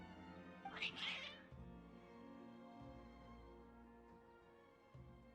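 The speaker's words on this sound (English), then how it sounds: "Your cats seem pretty worked up." Cats in Genshin Impact let out a loud, drawn-out meow near the start, then quieter game background music carries on beneath.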